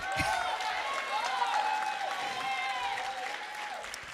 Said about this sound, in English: Yes, y'all can clap for that.